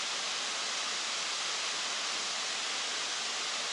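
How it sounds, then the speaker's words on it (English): Steady, dense rush of falling water at the Kravica waterfalls in Bosnia and Herzegovina, a continuous broad roar close by with no breaks or other sounds. "The sound of the waterfall is much nicer"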